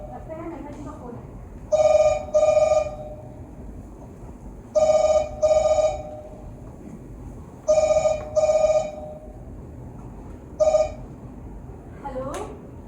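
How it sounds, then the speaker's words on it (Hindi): A telephone rings in four bursts of double trills spaced a few seconds apart, clear and fairly loud over low background noise. "सुधीर लगता है मेहता जी का फोन है।"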